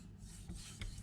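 A knife blade strokes across a Naniwa Gouken Kagiyaki whetstone, making two quick, soft scraping passes close by over a quiet hiss.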